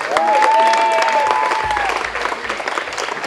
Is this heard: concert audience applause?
yes